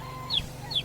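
A chicken near a house gives two short, quick clucks, close and fairly quiet against a low background hum.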